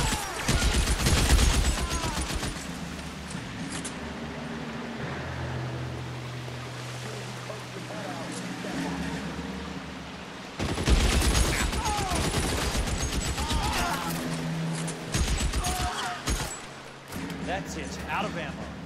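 Rapid bursts of machine gun fire in the L.A. Noire video game, loud and dense, in two long stretches separated by a quieter gap, with someone talking over the shooting.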